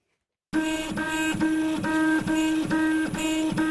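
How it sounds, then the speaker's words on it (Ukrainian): A home-built 3D printer lays down molten plastic filament layer by layer, its stepper motors whining in steady, rhythmic pulses with a pitched tone that repeats about twice a second, close and continuous with no talk. "Шар за шаром принтер наплавляє пластикову нитку."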